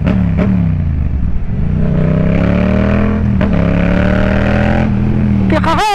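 Yamaha MT-07 motorcycle engine rumbles close by, rising in pitch with a few revs, then sharp rapid throttle blips at the end; a voice speaks briefly under it.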